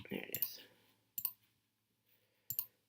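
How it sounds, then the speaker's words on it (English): Computer mouse clicks come as a few sharp, quiet taps spaced about a second apart, alone after a brief stretch of speech at the start. "it's a lot of clicking"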